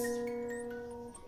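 A metal guitar string rings out with a steady sustained tone and bright overtones, fading slowly over about a second with no talking.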